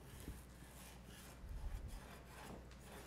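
Quiet rasping, scraping strokes as a knife works through partly frozen Arctic char, with a few heavier rubbing passes in the middle.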